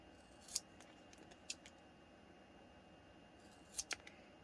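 Scissors snipping through vinyl fabric while sewing a pattern: a few sharp, quiet clicks spaced apart, with a quick double snip near the end over faint room hush.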